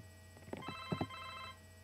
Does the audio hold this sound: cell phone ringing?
yes